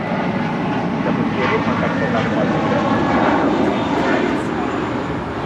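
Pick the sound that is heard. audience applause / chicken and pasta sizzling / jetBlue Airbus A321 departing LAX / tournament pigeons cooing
jetBlue Airbus A321 departing LAX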